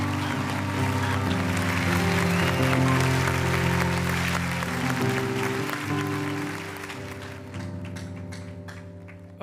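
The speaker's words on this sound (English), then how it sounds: "Please keep clapping as he comes." Audience clapping as a guest pastor walks onto a church stage, a steady rush of hand claps layered over sustained music that thins out near the end.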